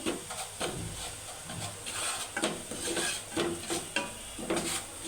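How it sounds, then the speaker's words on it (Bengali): Dry semolina scraped and stirred around a hot pan over low heat, with repeated rhythmic scrapes and a soft sizzle throughout, close by. "সুজিটাকে আমি একটু ভালো করে আস্তে জালে ভেজে নিব"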